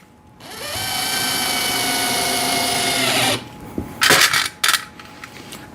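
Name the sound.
drill driving screws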